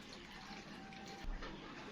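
Faint running water pours steadily into a blender holding tomatoes, a soft continuous splash with a slight bump near the end.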